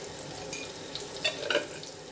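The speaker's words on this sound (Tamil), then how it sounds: "எண்ணெய் சூடானதும் கருவேப்பிலை, வெங்காயம், பூண்டு, உப்பு, மஞ்சத்தூள்." Curry leaves, onion and garlic frying in hot oil in a clay pot for a drumstick side dish: a steady low sizzle with a couple of brief crackles and clicks.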